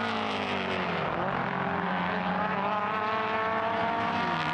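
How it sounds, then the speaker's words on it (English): Classic Alfa Romeo race cars with high-revving 4-cylinder 2-litre and 1750 engines roar around the Imola circuit, their overlapping engine notes droning steadily and shifting in pitch as the cars pass, with no talk. "Those higher revving 4-cylinder 2-litre and 1750 engines."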